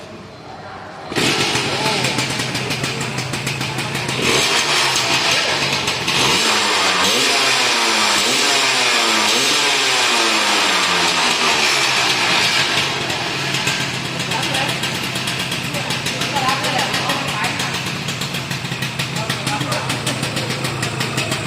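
A car engine with a newly fitted dash box cranks and catches after about a second, then idles and revs loudly and steadily for the rest of the stretch, with the pitch rising and falling through the throttle blips.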